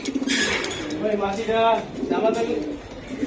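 A pair of racing pigeons, a male and a female, coo close by in soft, throaty rolling phrases that repeat a few times.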